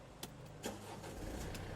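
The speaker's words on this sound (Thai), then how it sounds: "เดี๋ยวจะให้ฟังในส่วนของเสียงเครื่องยนต์นิดหนึ่ง" A Mercedes-Benz E250 CDI diesel engine starting, a few soft clicks followed by a low, very quiet, even hum as it settles, with no voices.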